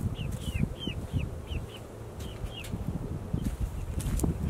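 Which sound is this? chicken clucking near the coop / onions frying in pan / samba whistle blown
chicken clucking near the coop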